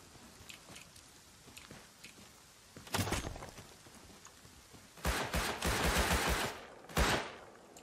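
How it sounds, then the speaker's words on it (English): Gunfire rings out in the survival video game Rust, a few sharp single shots followed by a rapid burst of automatic fire and another short volley. No one speaks. "Shots over by you, Wreck."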